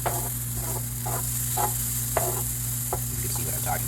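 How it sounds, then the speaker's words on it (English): Onions sauté in a pan with a steady sizzle and hiss, punctuated by soft scraping stirs at irregular intervals, heard close up. "It doesn't take too long to saute onions."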